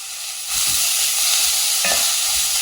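Green peas and other pulao ingredients stirred in ghee, a steady loud sizzle with scraping stirs running throughout after a quiet start.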